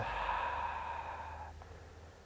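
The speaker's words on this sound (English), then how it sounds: "Those long, audible exhales, just to slow things down before we start moving." A long, slow exhale through the mouth during a yoga breathing practice, one soft breathy sigh that trails off, close and quiet with no talk.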